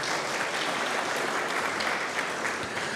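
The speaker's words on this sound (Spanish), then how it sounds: "la señorita Margot Ramírez, para quien también suplico un fuerte voto de aplauso." Sustained, dense applause from an audience at the presentation of a women's football club squad, steady and even throughout with no talk over it.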